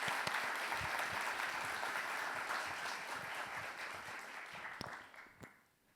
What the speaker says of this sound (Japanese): じゃあ皆様大きな拍手でトロンドさんをお迎えください